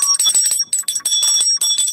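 A bell rings repeatedly during a live online sale of bawal headscarves, sounding loud and bright in rapid bursts with short gaps, with no talk over it.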